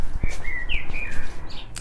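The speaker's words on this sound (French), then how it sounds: "avec le chant des oiseaux que je vous laisse apprécier par derrière" Birds sing outdoors in a steady run of bright chirps and warbling phrases, moderately close and clear over a soft background of outdoor ambience, with no talking.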